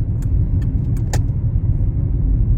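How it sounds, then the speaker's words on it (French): A car drives around a roundabout, heard from inside as a steady low engine and road rumble with a few faint clicks and rattles on top. "Je tourne autour du rond-point."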